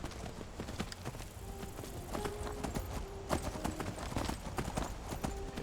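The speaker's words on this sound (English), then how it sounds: "That is even creepier. A demonic horse of some kind." Hooves of a demonic horse in Skyrim clop in a steady, fairly quick rhythm, close and distinct over a low outdoor background, with no speech.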